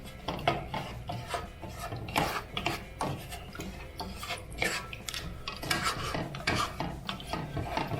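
A spatula scrapes around the sides of a bowl of white cheddar cheese sauce, giving repeated close rasping strokes with a thick, sticky texture and no talking.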